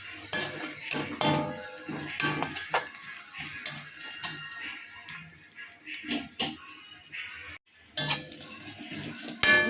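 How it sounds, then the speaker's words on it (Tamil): Chilli powder, coriander powder and garam masala are sautéed in a pan for a Kongu-style green gram kuzhambu, heard as irregular metallic spoon clinks and scrapes against the pan over a faint sizzle. "இதை சேர்த்து நல்லா ஒரு அந்த பச்சை வாசனை போகிற அளவுக்கு வதக்கி விட்டுடலாம்"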